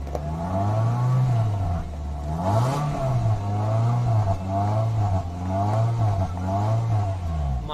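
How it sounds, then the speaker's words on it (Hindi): A 2008 Toyota Corolla Altis 1800cc petrol engine runs close by, repeatedly revving up and settling back in a steady cycle of rising and falling drone. "बहुत ही ज़बरदस्त साउंड है गाड़ी का"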